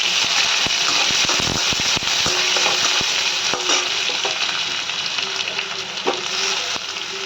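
Chopped onion hits hot oil with curry leaves, mustard seeds and dried chilli, giving a loud, dense, continuous sizzle spattered with sharp crackles and pops that carries on for several seconds.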